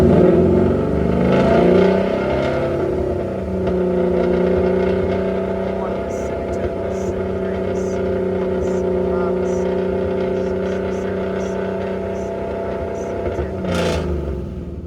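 A car engine fitted with a VMP G3R supercharger revs and holds a steady, loud drone with rising and falling pitch, settling into a sustained rumble before a brief final rev near the end.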